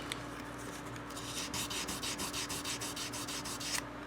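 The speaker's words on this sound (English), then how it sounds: "this is the one that I just sort of ran the sandpaper over" Sandpaper rubbing over the frets of a Danelectro guitar neck produces a soft, quiet scratchy rasp in steady rhythmic back-and-forth strokes, close up and alone.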